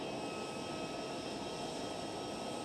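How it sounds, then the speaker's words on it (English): A KLM Airbus A321neo airliner at Amsterdam Schiphol gives a steady, even engine roar that holds at constant loudness throughout, with no voices. "lovely brand new aircraft. KLM Airbus"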